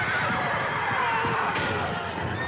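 Horses whinny in a shrill, drawn-out neigh over a thick, constant din of hooves and movement from Viking-era soldiers on horseback, loud and continuous throughout.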